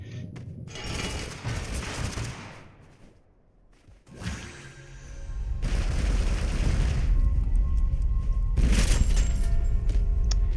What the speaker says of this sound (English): They had a cluster splinter grenade.